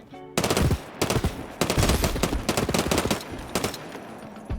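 Bursts of rapid automatic gunfire in the Hawked video game, fired while the player slides and jumps: loud, dense volleys broken by short gaps, with sharp individual shots between them and no talking.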